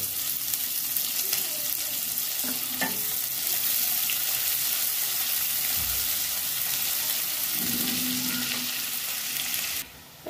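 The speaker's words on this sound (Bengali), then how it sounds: "তেলটা গরম হয়ে গেছে, কেটে রাখা পেঁয়াজ কুচিগুলো দিয়ে দেবো। কিছুক্ষণ ভেজে নেব।" Chopped onions hit hot oil already seasoned with cumin seeds and asafoetida, then fry in a steady, close sizzle broken by occasional scraping stirs, with no talk over it.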